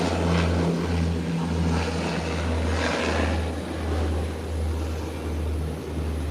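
A small commuter propeller plane rolls down the Providenciales runway on Provo and climbs out toward Grand Turk, its engine droning steadily at moderate distance with a constant low hum and gently swelling tone.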